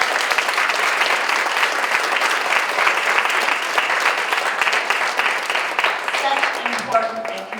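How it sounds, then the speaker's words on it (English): Sustained audience applause fills a hall at a retirement party, a dense steady wash of clapping hands that holds throughout and begins to thin out toward the end. "another round of applause for her publications."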